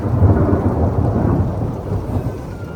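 Thunder rolls through a sudden rainstorm, a deep, continuous rumble that stays loud throughout, with rain hissing underneath.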